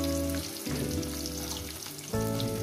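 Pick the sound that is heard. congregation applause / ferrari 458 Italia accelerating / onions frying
onions frying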